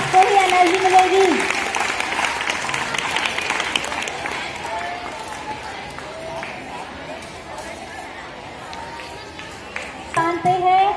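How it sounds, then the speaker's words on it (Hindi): Audience applause for students at a school prize-giving ceremony, a sustained wash of clapping with some crowd noise that thins toward the end, then swells again briefly near the close. "जोरदार तालियां बजाइए।"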